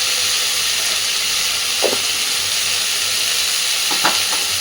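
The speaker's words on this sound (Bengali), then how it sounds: "আলু আর ফুলকপিটা একটু নাড়াচাড়া করে একটু ভেজে নিয়েছি" Potatoes and cauliflower frying in a pan give a steady, even sizzle and hiss, with a couple of brief stirring scrapes standing out near the end; no one speaks.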